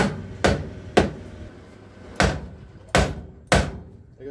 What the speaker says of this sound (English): You can either tap this with a hammer until you bottom out